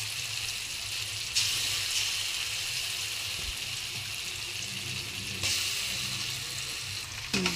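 Grated raw mango is stirred into hot oil with chana dal in a pan, a continuous loud sizzle with bursts of crackling and occasional spatula scrapes.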